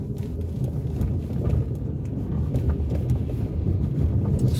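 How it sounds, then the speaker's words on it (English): Strong wind gusts buffet the microphone at a beach parking area near Sandy Bay, Llandudno, Cape Town, a steady low rumbling roar that swells slightly throughout, with no speech. "Strong wind picking up."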